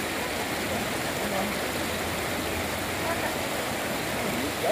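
River water pouring steadily over a dam on the Ipojuca river, a constant broadband rush with no breaks and no voices.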